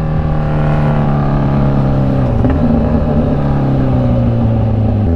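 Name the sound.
scooter exhaust while riding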